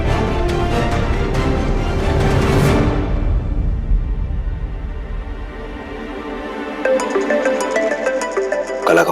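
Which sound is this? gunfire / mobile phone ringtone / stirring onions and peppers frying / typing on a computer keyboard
mobile phone ringtone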